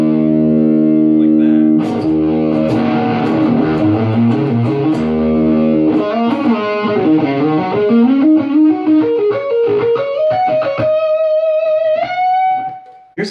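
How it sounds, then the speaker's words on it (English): Electric guitar played through an MXR Freq-Out fuzz pedal with heavy distortion: a loud, buzzing riff of saturated notes and chords, ending on a long sustained note that swells into ringing feedback. "there's so much distortion and it's just all tweaked out and fuzzed out."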